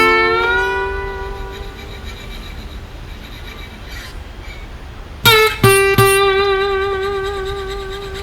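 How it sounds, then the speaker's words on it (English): An Eastman parlor acoustic guitar runs through Waves J37 tape distortion. A ringing chord decays, then three sharp strums follow in quick succession, each sustaining with slightly broken-up, saturated tone, close and without voices. "I am running a bit of tape distortion from the Waves J37."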